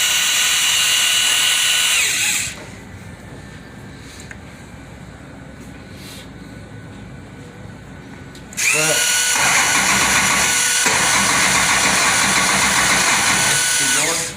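A 1966 Plymouth wagon's Indy-headed 512 engine cranks over in a loud, steady whirring burst, pauses to a lower hum, then cranks again just as loudly, with people talking in between.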